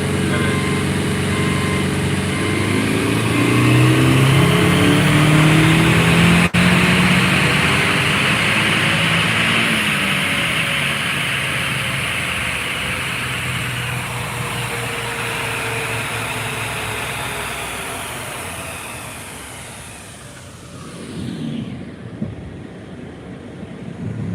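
A car engine on a dyno roars loudly at high revs for most of the run, its pitch climbing and holding, then winding down and easing toward idle near the end, with no voices.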